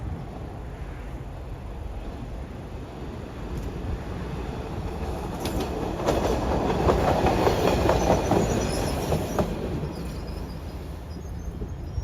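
A 1980–81 Kawasaki double-ended trolley on the Sharon Hill line rumbles past at speed with wheel clatter and rail noise, growing louder near the middle with some screeching before easing off.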